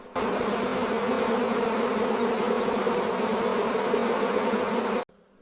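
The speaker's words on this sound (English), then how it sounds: "thousands of bees are living and working on the farm." A dense, steady buzzing of many honey bees on a honey farm, close and continuous for about five seconds before cutting off abruptly.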